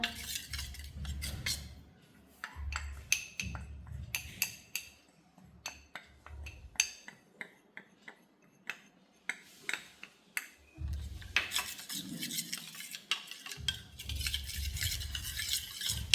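A jaggery and henna paste being mixed with flour in a bowl, heard as soft scraping stirs with light clinks of the utensil against the container, close and fairly quiet, with no talk.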